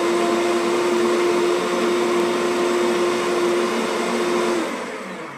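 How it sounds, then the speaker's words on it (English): A kitchen blender churns warm water and dish soap to clean itself, giving a loud, steady whirring drone for about four and a half seconds before winding down. "I'm going to run the blender for a moment"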